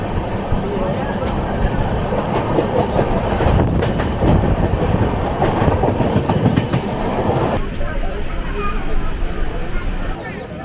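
The 12871 Ispat Express runs along the rails with a loud, steady rumble and rattle for the whole stretch, easing slightly near the end, while a crowd of voices murmurs faintly underneath.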